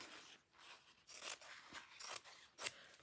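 Scissors cutting through suede material, a few crisp snipping crunches spaced about half a second apart, close and fairly quiet.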